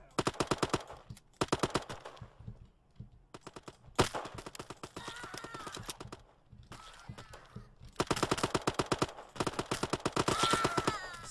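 Rapid automatic gunfire in an egg-themed first-person shooter video game, loud close bursts of fast repeated shots separated by short pauses, with brief quieter gaps between volleys.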